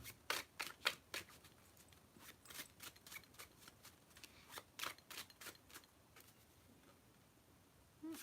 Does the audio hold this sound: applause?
no